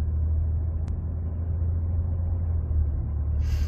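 A Ford F-150 with a 10R80 ten-speed transmission under light acceleration, a steady low engine drone moving through the gears, heard from inside the cab.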